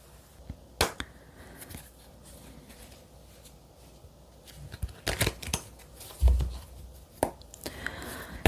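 Tarot cards are shuffled in quick riffling bursts and sharp snaps, several separate flurries with short pauses between, close and fairly crisp, with no talk.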